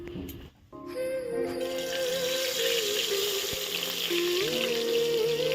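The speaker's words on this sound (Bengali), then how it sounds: "তেলটা কিন্তু ভালোভাবেই গরম হয়ে গেছিল। তারপর দেখো এক এক করে আমি কিন্তু সব মাছগুলোকেই দিয়ে দিচ্ছি।" Small chang fish dropped into hot oil, a brief quiet gap giving way to a loud continuous sizzle and bubbling that holds steady, close up, with a faint tonal whine in the background.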